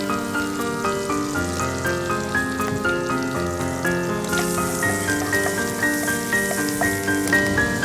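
Mushrooms sizzle in a pan of oil and butter, a steady, soft crackling fry that runs continuously beneath melodic background music with no talking.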